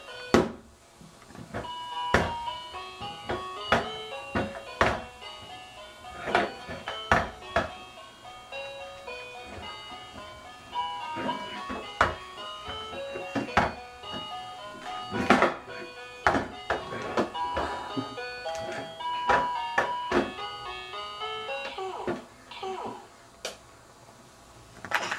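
An electronic toy plays a bright, beeping melody with tinny tones and clunky button presses, loud and continuous without a break.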